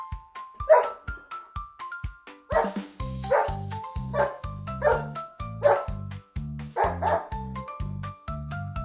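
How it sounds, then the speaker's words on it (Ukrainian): A cartoon dog barks in a repeated rhythmic series of bright yips and woofs over a bouncy musical backing with a bassline, each bark clear and close in a children's animal-sounds piece. "Це собачка. Як вона з нами розмовляє, ти знаєш? Гав-гав."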